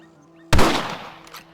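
A single loud rifle shot from the video game Red Dead Redemption cracks sharply after a quiet moment, then trails off in a long fading echo.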